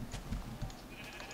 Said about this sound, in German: So, jetzt werde ich ein Schaf rasieren mit der Angel.